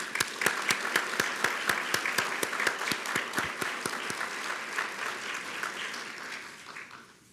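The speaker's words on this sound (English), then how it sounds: "And let's give everyone a round of applause." A city council meeting audience gives a round of applause. A few sharp, evenly spaced claps lead into broader clapping that slowly fades out.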